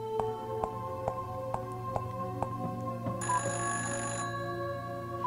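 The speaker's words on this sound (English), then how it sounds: "Phone is ringing" Telephone ringing in the video game Fran Bow, a repeating bell-like ring in an even rhythm, joined midway by a brief higher tone, with no talk.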